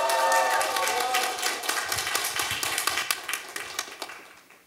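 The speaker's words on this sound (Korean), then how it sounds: "큰 박수로 환영해 주십시오." Loud, dense applause from a library audience welcoming author Kim Yong-seop at a book concert, many hands clapping at once, then thinning into scattered claps as it fades.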